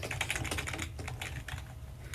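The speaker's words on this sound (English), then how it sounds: "So much typing happening in the background there." Rapid, forceful typing on a computer keyboard clatters close and loud, dense bursts of key strikes with brief gaps, heard alone without talk.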